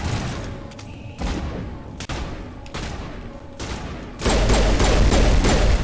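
Pistol gunfire in the video game Mass Effect, a series of sharp, loud shots spaced about a second apart, followed by a denser, continuous roar of combat noise.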